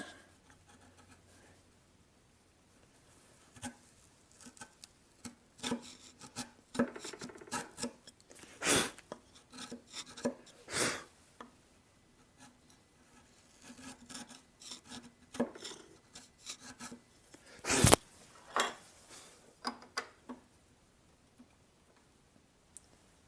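A chisel chops a hinge mortise in wood by hand, giving irregular sharp taps and scraping rasps, close and moderately loud, with quiet gaps between the strokes.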